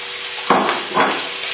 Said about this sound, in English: we just need to add a little bit of oil into the pan. Just about a teaspoon of oil, and then straight in with the sausages.